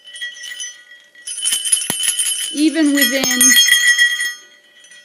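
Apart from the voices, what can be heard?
sand-cast 40 and 45 millimeter bells ringing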